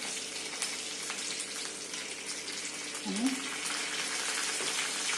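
Curry leaves and sliced green chillies sizzling in hot oil in a kadhai, a steady close hiss of frying with faint clinks and a brief low vocal murmur partway through.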